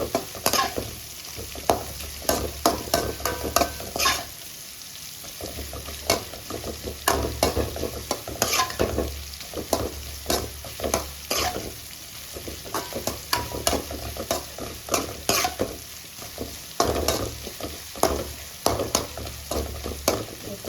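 Bitter gourd frying in a pan, a continuous sizzle punctuated by frequent scraping and knocking of a spatula stirring, close and uneven in rhythm, with no talking.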